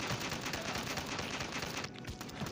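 Rapid automatic gunfire in the zombie shooter game Dead Ahead: Zombie Warfare, a continuous burst of shots at steady volume with a brief dip near the end.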